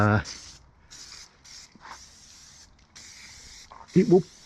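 Repeated short hissing bursts of silicone spray from an aerosol tin onto a bicycle, close and fairly quiet, with brief pauses between squirts and a faint thump near the end.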